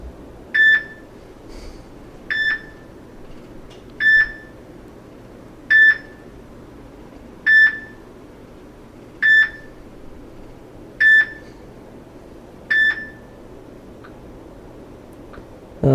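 The Beep Once notification tone from a Samsung Galaxy J3 Orbit phone plays as eight short, clear, identical electronic beeps at an even pace of roughly one every 1.7 seconds, with only faint room hiss between them.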